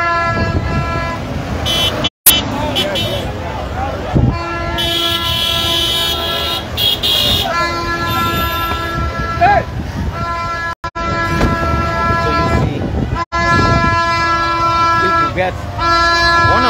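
Cars in a presidential motorcade pass by, sounding repeated sustained horn blasts over a steady rumble of engines and traffic, loud and close, with people talking amid the din.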